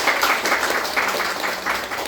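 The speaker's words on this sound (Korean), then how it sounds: "사랑하는 마음으로 박수해 주시기 바랍니다" Congregation applause during a Sunday church service, welcoming a young man back from military discharge: a steady, moderately loud patter of many hands clapping in a hall, with no speech.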